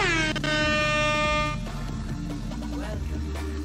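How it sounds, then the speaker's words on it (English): An air horn blares loudly and steadily in an Overwatch 2 match, then gives way to game noise and busy background sounds. "Yeah, I got an air horn."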